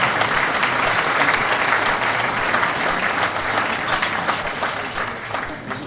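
An audience at a village-of-the-year award ceremony in Budmerice, Slovakia, claps for a municipality and its mayor receiving a prize, producing dense, sustained applause from a sizeable crowd that holds steady and then tapers slightly.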